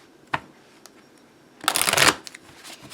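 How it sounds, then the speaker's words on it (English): A tarot deck shuffled close by: a few soft card taps, then one dense, loud riffling burst lasting about half a second, followed by light handling sounds. "Give this a real good shuffle."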